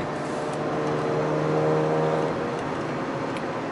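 A Mazda RX-8 engine hums at a steady, moderately loud idle-to-rev level, with a faint tonal whine that wavers and drops off partway through, suggesting hesitation in the revs.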